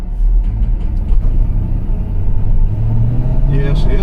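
A 2019 Express Van 3500 engine bogs as it starts off, giving a loud low rumbling drone from inside the cab that strains and rises slightly toward the end.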